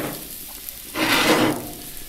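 Half-ring slices of red onion hit hot oil in a thick cast-iron pan, a sudden loud sizzle that flares for about half a second and then settles to a soft hiss.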